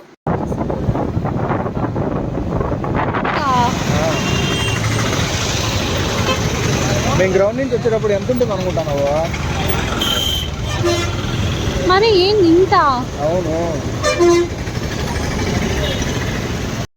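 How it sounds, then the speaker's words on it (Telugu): Busy road traffic with cars and trucks, several car horns honking in short bursts over constant wind and engine rumble, with a brief voice speaking. "సో చూసారు కదా ఎంత ట్రాఫిక్ ఉందో"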